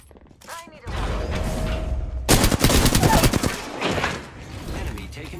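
Rapid automatic gunfire in Apex Legends, building into a loud, dense burst of shots mid-clip and tapering into scattered fire, with a game voice heard at the start.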